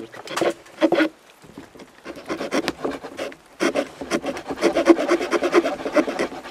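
A knife whittles a small piece off a wooden branch outdoors, giving a series of close, dry scraping and rasping strokes in quick bursts, with a short pause before the cutting resumes more steadily.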